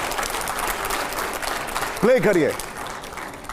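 A studio audience at a Hindi political question show claps loudly for about two seconds, then a voice cuts in briefly as the clapping fades.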